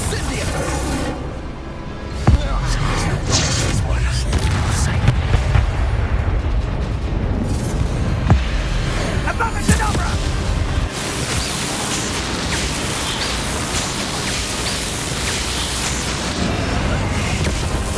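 Bombarda and Confringo spell explosions burst in Hogwarts Legacy, heavy booming blasts and crackling rumbles layered over continuous loud combat noise, with occasional sharp impacts punctuating the din.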